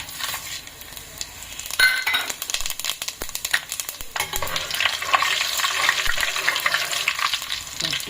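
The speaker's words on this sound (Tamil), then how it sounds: "எண்ணெய் காய்ச்சதும் பட்டை வகையை போடணும்." Whole spices dropped into hot sesame oil in a pan for village-style mutton curry: a loud crackling, spattering sizzle that swells and keeps going, with occasional scraping and stirring clatter from the pan.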